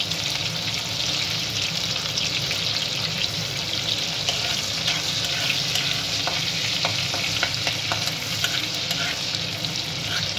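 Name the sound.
chilli chicken frying in a pan with chopped ginger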